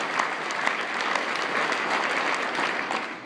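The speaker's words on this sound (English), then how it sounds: "How about a round of applause for the singer, graduate of Crestline Elementary" A round of applause for a young singer at Crestline Elementary school, many hands clapping steadily from a sizable audience, fairly close and sustained before easing off at the end.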